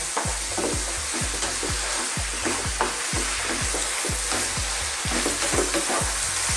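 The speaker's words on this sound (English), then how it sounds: "Give it a good stir." Minced beef curry with chopped tomato and green chili sizzles loudly in a pan while a spoon scrapes and stirs in a regular, repeated rhythm close by.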